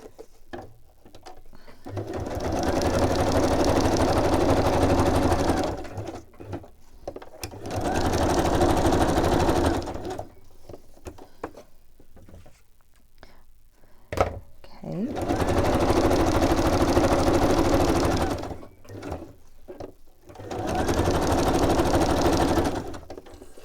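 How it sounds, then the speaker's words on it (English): A sewing machine whirs in several long bursts of rapid stitching, stopping and starting, with quiet gaps between runs. "And then I'm just going to stitch around this."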